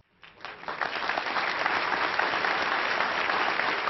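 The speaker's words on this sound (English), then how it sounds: "There were tears, tissues, and tons of people who managed to hold their applause as Carson was called on stage" A packed church gym crowd breaks into applause to welcome a police K-9 home, starting abruptly and swelling into a dense, sustained wave of clapping that stays loud to the end.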